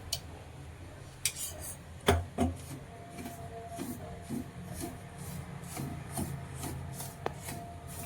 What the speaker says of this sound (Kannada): ಚೆಂದಾಗಿ ಹುರಿಬೇಕು ನೋಡ್ರಿ ಇವು ತುಪ್ಪದಾಗ